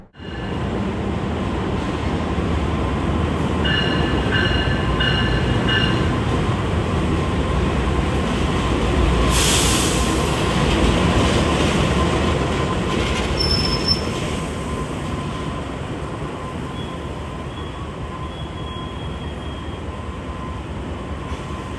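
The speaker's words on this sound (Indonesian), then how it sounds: "Ini dia lokomotif dari kereta api Wijayakusuma pada perjalanan saya kali ini" A passenger train hauled by the locomotive of the Wijayakusuma service rumbles past nearby with a continuous roar and wheel noise, brief squeals and a high whine rising midway, slowly fading toward the end.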